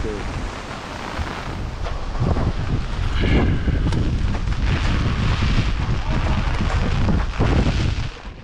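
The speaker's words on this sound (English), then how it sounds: "It's just like a heavy storm, like very windy, the rain's bad." Strong gusting wind of Typhoon In-Fa in Shanghai, China buffets the microphone in loud, rumbling waves, with the storm and heavy rain roaring steadily beneath and no clear talk.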